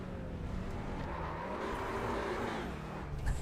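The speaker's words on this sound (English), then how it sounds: "It's a TCR car. I want to hear this thing on board." A TCR touring car heard from the onboard position in a sim racing game, its engine droning steadily with a rough, raspy gearbox note and tyre scrub throughout, loud and close, with a brief sharp knock right at the end.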